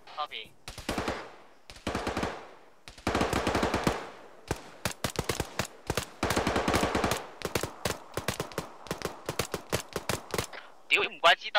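Bursts of PKM machine gun fire ring out in Arma 3 during a Chernarus battle, with long, loud automatic strings broken by short pauses and single cracks, close and dominant, and voices briefly audible near the end.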